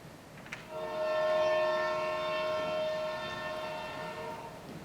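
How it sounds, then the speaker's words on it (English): A train passes with a sustained, multi-tone horn blaring over the rumble of rolling cars, swelling loud then fading slightly. "I think that's the train."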